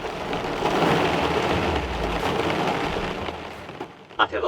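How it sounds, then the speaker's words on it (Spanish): Large hailstones pound an airplane fuselage in a storm as a dense, continuous roar of impacts. Heavy low rumble sits underneath, and a few distinct thuds stand out as the din eases at the end. "enormes bolas de granizo comenzaron a impactar en el avión, rebotando contra el fuselaje"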